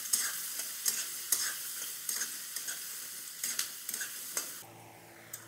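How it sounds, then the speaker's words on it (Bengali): Chopped onion, garlic and ginger frying in a pan with bamboo shoots and egg, a steady sizzle broken by repeated sharp scrapes and clinks of stirring, near and moderately loud, fading to a quieter hiss at the end. "দিয়ে দিচ্ছি পেঁয়াজ কুচি, রসুন কুচি, আদা কুচি। এগুলো একটু ভালো করে ভেজে নেব।"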